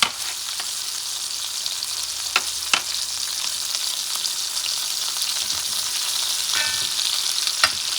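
A cod fillet frying in butter in a pan over medium heat, giving a steady soft sizzle with a few sharp clicks and taps, close by and moderate in level, no voices.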